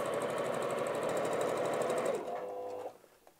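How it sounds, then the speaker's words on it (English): A sewing machine running a steady line of top stitching through layered fabric for a wallet, a fast even whir close up that slows and stops near the end. "So I'm just gonna run a quick line of top stitching just to secure that in place."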